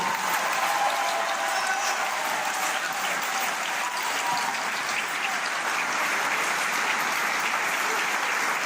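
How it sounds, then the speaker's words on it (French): Steady, dense applause from a sizable audience at a speech in Guadeloupe, sustained at an even level throughout without any voices standing out. "Applaudissez-la fortement, s'il vous plaît."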